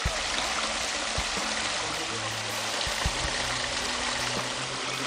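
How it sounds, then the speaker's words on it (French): A large waterfall in a forest, a constant broadband rush of falling water that is steady and loud throughout with no voices over it. "c'est une grosse cascade"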